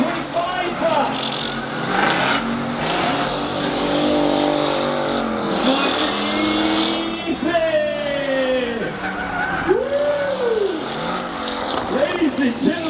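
Cars power sliding and drifting at the GAS Motorshow 2025 event, with revving engines and wavering tire noise sustained throughout while a loud announcer talks over the action.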